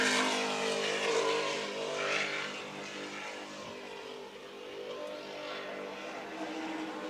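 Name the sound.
Superboat racing powerboats lapping during Grand Prix race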